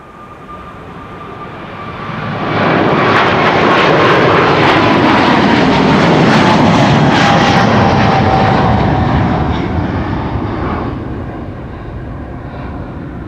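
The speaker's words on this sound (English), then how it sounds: "China Southern Cargo, flight 454. A 777 freighter" China Southern Cargo Boeing 777 freighter passing at Amsterdam Schiphol Airport, its jet engines swelling into a loud, broad roar that holds for several seconds and then slowly fades.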